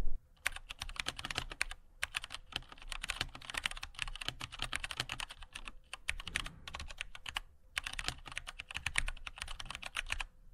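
Rapid typing on a mechanical keyboard with brown switches produces a close, busy patter of keystrokes in bursts, broken by a few brief gaps.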